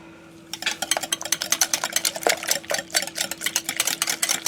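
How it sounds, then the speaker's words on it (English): A whisk rapidly beating a mixture seasoned with cracked black pepper in a bowl, a quick steady run of close, bright metallic clicks and scrapes that starts after a brief quiet moment and continues without talk. "Give that a good whisk together."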